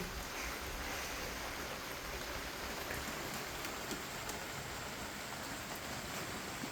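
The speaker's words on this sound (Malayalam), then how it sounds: "നല്ല മഴ പെയ്യുന്നുണ്ടല്ലോ" Heavy rain falls in a steady, dense hiss that fills the whole stretch evenly, with no pauses and no voices.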